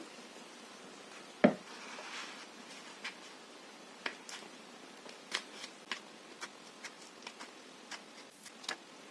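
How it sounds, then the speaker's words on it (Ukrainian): Scissors cutting a paper circle for a children's clock craft, a string of small crisp snips and clicks at irregular intervals, close and faint, with no talking. "Беремо ножиці."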